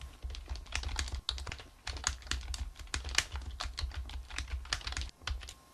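Continuous typing on a computer keyboard, rapid uneven clicking keystrokes close up with a few heavier presses, no voices.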